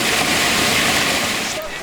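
A steady, loud roar of rushing water fills an underground river collector beneath central Moscow, a continuous dense wash with no breaks.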